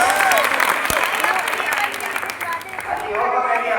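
Applause from a watching crowd at a stage play, a dense wash of clapping that dips briefly in the middle and then swells again.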